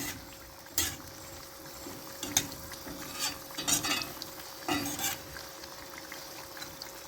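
Pak choi stirred in a pan with a spoon, giving irregular scraping and clattering strokes over a faint, low sizzle, fairly quiet and close, with no talking.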